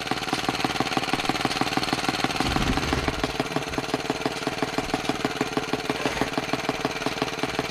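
Small two-stroke engine of a Muravey motor scooter running steadily after starting, with a fast regular putter and a brief rev in the middle, close and alone.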